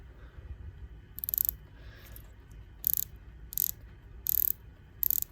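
The rotating bezel of a Tudor Pelagos watch clicks through five short bursts of rapid ratcheting, crisp and close against a quiet background.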